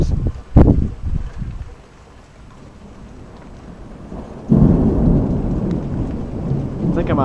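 Rolling thunder booms through steady rain during a summer thunderstorm: a few close, loud cracks and rumbles early on, then a heavy wash of rainfall that grows louder and more constant, with no voices.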